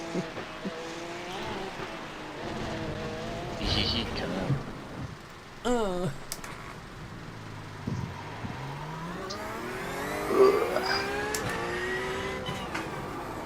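A race car in iRacing at the Nurburgring breaks loose, its engine note swooping and sliding in pitch with tire noise as control is lost, under occasional talk from the driver.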